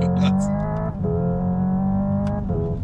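Hyundai Ioniq 5 N electric car playing its simulated combustion engine sound, revving hard toward the rev limiter with brief dips like shifts, a loud buzzy synthetic engine note.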